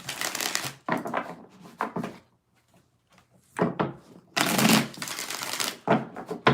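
Tarot cards are shuffled by hand in several bursts of crisp riffling and slapping, loud and close, separated by short quiet pauses.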